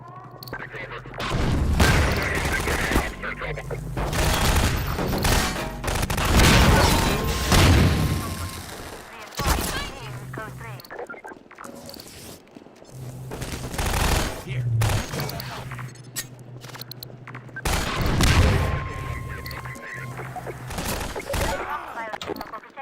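Rapid gunfire bursts and booming impacts in the video game Half-Life 2, loud and sustained with brief pauses between volleys, mixed with game effects.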